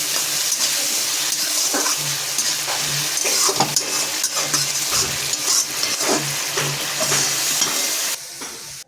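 Spices sautéing in a pan with a splash of water while fish is being cooked, giving a steady, fairly loud sizzle with intermittent scraping stirs and light clinks until it cuts off near the end.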